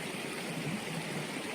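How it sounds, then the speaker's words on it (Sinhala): Cold water stream coming down from Horton Plains, flowing steadily as a continuous broadband rush and gurgle, close and fairly quiet, with no voices. "මේ වතුර පාර එන්නේ හොටන් ප්ලේන්ස් වල ඉඳලා."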